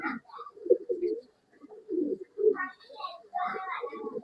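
Pigeons coo in soft, throaty bursts at a Bangalore pigeon sale, with a pause midway and a voice murmuring faintly alongside.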